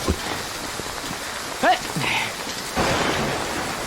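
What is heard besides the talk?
light rain falling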